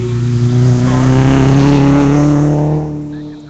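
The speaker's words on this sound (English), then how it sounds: "sounds like a Subaru or a Mitsubishi." A rally car built from a 2005 Subaru Impreza RS driveline in an old body, open all-wheel drive, roars loudly past on a rally stage, its engine note swelling and then fading as it moves away.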